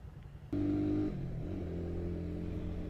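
A Suzuki Raider 150 motorcycle engine, heard up close, jumps from a quiet idle into a sharp rev, then drops back to a steady higher idle, with no talking.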